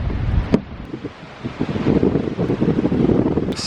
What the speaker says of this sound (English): Did I mention it is outrageously windy?